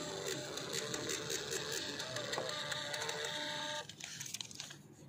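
A car battery tester prints out a result for a JIS 36B20 battery, a small printer whirring and buzzing in a fast steady stream close by, then stopping abruptly to leave quieter clicks.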